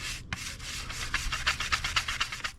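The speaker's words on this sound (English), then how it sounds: "I'm just going to brush it off with this brush here, and that'll take the dirt right off." A stiff brush scrubs dirt off old wooden kitchen table boards, making close, rhythmic rasping strokes that repeat quickly one after another.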